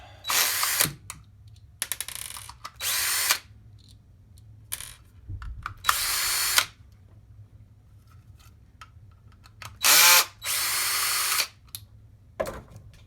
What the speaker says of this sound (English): Step 1, remove all the screws.